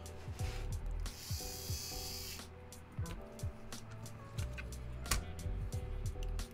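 Screws being driven into an Orbithane keyboard with a hand tool, quick ratcheting clicks in short bursts alongside scraping and mechanical rattles, close and fairly loud.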